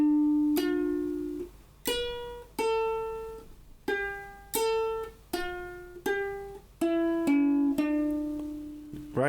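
A ukulele plays a bridge passage as single plucked and strummed notes with clear pauses between them, each note ringing and decaying, close and fairly quiet.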